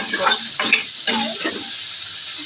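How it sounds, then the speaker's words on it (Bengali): Vegetables stirred and fried in a pan before chow mein goes in, a constant sizzle with a few soft scraping stirs near the start. "এবার নাড়াচাড়া করে নেবো ভেজে নেবো ভালো করে তো চলো এইভাবে ভেজে নিই"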